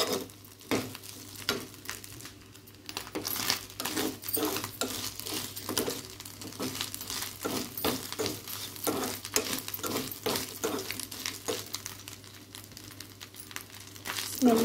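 Food frying in a pan until golden brown, a continuous sizzle broken by repeated scraping stirs and clinks of a utensil against the pan, close and fairly quiet.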